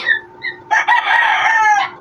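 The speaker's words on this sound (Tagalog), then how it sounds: "Ingay naman ng manok." A rooster crows loudly nearby, one long cock-a-doodle-doo after a few brief chirps.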